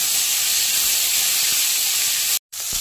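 A loud, steady hiss of frying as chopped, washed vegetables hit hot oil flavoured with garlic, close and constant, broken by a brief cut near the end before the hiss resumes.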